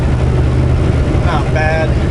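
A lightly loaded semi truck with an automatic transmission lugs at low RPM in 17th gear, a steady, deep engine drone heard from the cab.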